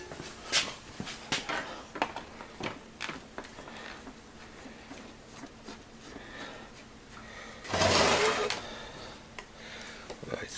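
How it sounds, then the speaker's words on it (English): Screws are worked out of a wooden chair with a series of close, irregular clicks, scrapes and ratcheting taps, plus one louder, longer grinding rasp partway through. "now I want to get the screws out of there"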